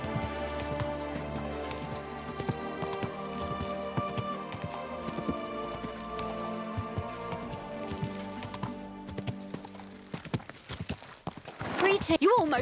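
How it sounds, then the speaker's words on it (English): Rhythmic clip-clop of horse hooves over a constant musical and rain-like background, ending in a brief burst of louder noise, from the video game Kingdom Come: Deliverance II. "Easy, good horse."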